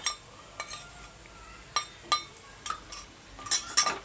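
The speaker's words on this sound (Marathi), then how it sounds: "एक मिनटं कांद्याबरोबर परतून घेते आलं लसूण पेस्ट" Ginger garlic paste sautés with reddened onions in a pan on the stove, with a spatula clinking and scraping the pan at irregular moments over a quiet background, no talk.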